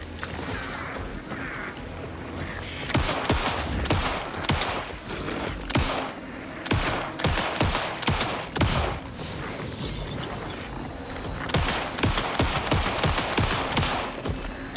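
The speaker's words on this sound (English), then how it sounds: "How many shots can this dude take?" Rapid gunfire from Alan Wake II, loud bursts of shots in quick repeated volleys across the whole stretch, with brief pauses between strings and mechanical clatter in the mix.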